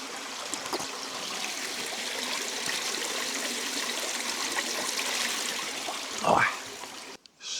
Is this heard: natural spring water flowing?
yes